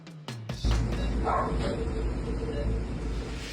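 A dog in Baguio, in distress after a fireworks incident, gives brief barks over a steady background din, moderately close.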